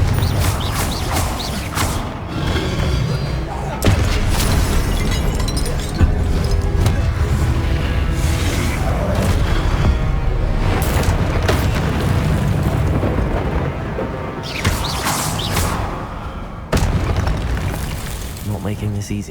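Confringo blasting spells fired in the video game Hogwarts Legacy, loud booming explosions over dense game music and effects, with bursts recurring through the fight and a voice speaking over the action.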